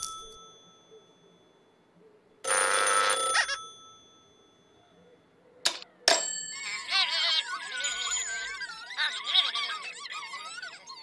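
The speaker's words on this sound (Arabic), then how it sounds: "من يتصل على هاتف الطوارئ؟" An emergency telephone in a cartoon rings in a short, loud burst of bell tones, followed after a pause by a sharp click and a longer run of varied ringing chimes.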